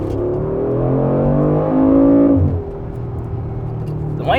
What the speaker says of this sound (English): remember I told you I like the way this car sounds?